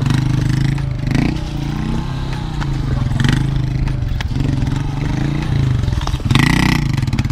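A motorcycle engine held at high revs and surging as the clutch is released for a wheelie at a stunt-riding practice area, a loud, continuous buzzing roar with rising bursts, close by.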